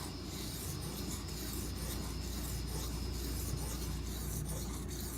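A D2 steel knife grinds back and forth on an aluminum oxide whetstone, close-up repeated rasping strokes in a steady rhythm, with no one talking.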